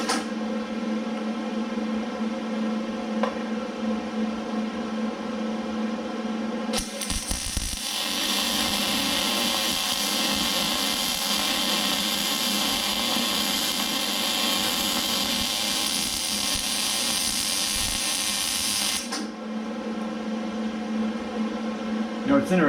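A MIG welder lays a vertical joint running downhill, giving a steady, dense crackling hiss that lasts about twelve seconds. It starts and stops abruptly over a constant low electrical hum.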